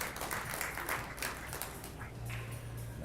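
A knowledgeable crowd of pool players applauds a smooth draw shot at a pool semi-final in Las Vegas, producing steady, dense clapping for a few seconds.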